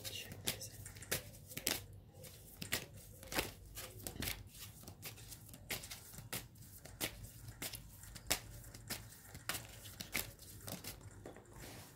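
Tarot and Dixit cards, the latter from a French board game, are shuffled close up with repeated crisp riffling slaps and flutters in an uneven rhythm, quiet and without talk.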